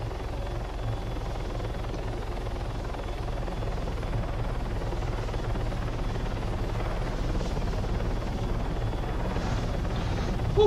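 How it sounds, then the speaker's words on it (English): Helicopter flying in the video game Arma, a continuous rumbling rotor and engine drone with a rapid chopping pulse, steady and close throughout, no voices. "This helicopter is really responsive"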